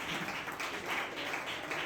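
A room of attendees at a catechism teachers' training session breaks into steady, moderately loud applause, a continuous patter of many hands with no voices over it.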